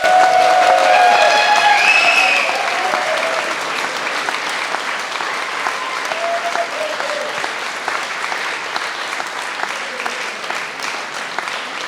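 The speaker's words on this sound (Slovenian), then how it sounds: "En velik aplavz." A concert audience bursts into loud, dense applause at a traditional summer show by a men's choir, with a few whistles and cheers early on before the clapping thins out.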